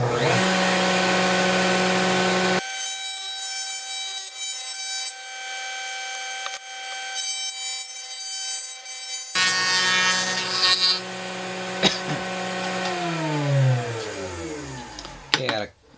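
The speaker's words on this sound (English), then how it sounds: "we're over at the router now. What we're going to do is round over the bottom edges and the top edges" A router with a 1/4 inch round-over bit rounds the edges of a wooden guitar pick tray. A loud tonal whine starts, holds, then rises and falls as the bit cuts, and the motor spins down at the end.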